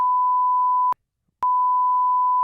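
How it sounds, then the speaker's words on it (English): A loud pure censor bleep tone sounds twice, the first lasting almost a second and the second starting after a short silence and running to the end, each with a sharp click at onset and cutoff. "I'm gonna beep it out regardless."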